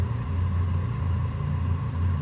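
A kitchen digester machine runs with a steady, loud low rumble and motor drone, unchanging throughout, with no voices over it.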